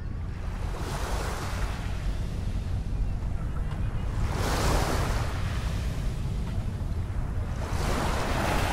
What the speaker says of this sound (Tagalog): At maririnig mo ang lagaslas ng tubig o ng alon.